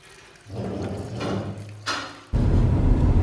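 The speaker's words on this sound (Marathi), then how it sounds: "कुकरमध्ये पाणी ओतलं आणि थोडंसं मीठ टाकून" Water pours into a pressure cooker in a steady close gush that builds, pauses briefly, then returns louder and fuller until the end.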